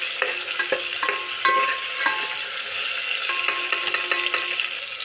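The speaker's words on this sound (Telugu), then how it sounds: "కట్ చేసి పెట్టుకున్న టమాటా ముక్కలు, టమాటాలు ఇలా మగ్గనివ్వాలి ఆయిల్లో బాగా" Tomato pieces softening in hot oil for a fish curry give a steady broadband sizzle, punctuated by repeated scraping and clinking stirs from a spoon against the pan, close and fairly loud with no talking.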